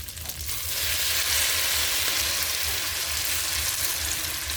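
Banana blossom omelette, tortang puso ng saging, frying in a pan, giving a steady, close, fairly loud sizzle with a low bubbling crackle throughout and no talking.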